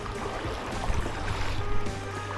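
A canoe moves along the Whanganui River in New Zealand, with soft water swirling and lapping against the hull and a few quiet paddle splashes.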